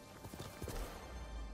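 Horse galloping in the Ghost of Tsushima video game, a steady run of hoof clip-clops at moderate distance over a low rumbling background, with no talk.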